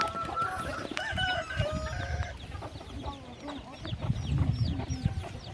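Chickens cluck and a rooster calls intermittently around a Hmong village farm in rural Laos where pigs and ducks are also kept, with outdoor ambience throughout and other farm noise close by.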